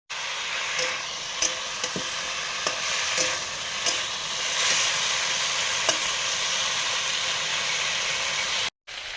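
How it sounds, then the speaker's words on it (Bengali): Ash gourd pieces fry in oil with nigella seeds, turmeric, chili powder and salt, giving a steady close sizzle broken by scattered sharp crackles and a few stirring scrapes. "চাল কুমড়ো ভাজা হয়ে গেছে"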